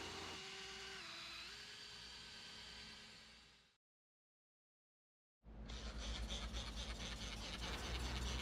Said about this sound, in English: put them on the backing plate, and start sanding.